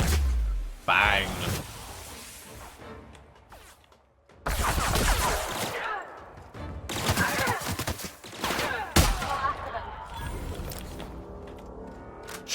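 Shotgun blasts in The Outer Worlds video game: several loud, abrupt shots amid combat noise, with a voice talking between them.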